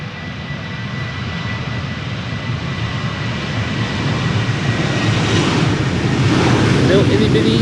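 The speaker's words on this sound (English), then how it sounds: "Time for Transavia to take off. Going to Pisa." A Transavia Boeing 737-700 taking off for Pisa from Amsterdam Schiphol, loud and close: a broad jet roar swells steadily, with a rising whine emerging near the end, and a faint voice beneath.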